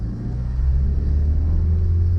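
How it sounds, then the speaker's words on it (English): A fire truck rumbling past on a country road by an olive grove, a loud low engine drone building and holding steady close by. "I've got a fire truck to get past"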